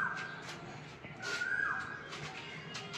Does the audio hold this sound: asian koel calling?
yes